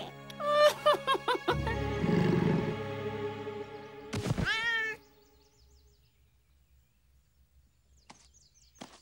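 A cat meows loudly several times in quick succession, with a drawn-out yowl, then falls quiet apart from a faint chirp near the end.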